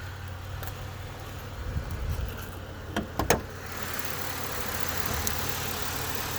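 A GM 3800 series car engine idles in a steady, low, moderately close hum, with a few brief clicks and knocks partway through and no speech.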